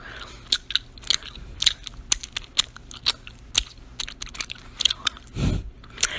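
Close, crisp gum chewing for ASMR, wet clicks and smacks repeating in an uneven rhythm with one softer low thump near the end, no talking.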